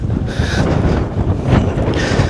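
Steady cold wind buffeting the microphone at Point Reyes, a continuous low rumble with gusts swelling louder at moments, no voices.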